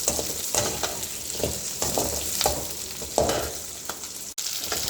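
Vendakkai (okra) sizzles steadily in a pan, a continuous close fry hiss with periodic stirring scrapes and spatula knocks, with no voices.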